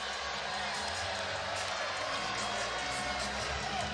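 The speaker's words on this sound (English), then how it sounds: "Crowd getting a bit impatient here." Restless arena crowd at a men's volleyball championship final, a dense continuous roar of voices and scattered shouts at steady loudness, with an announcer's talk mixed in.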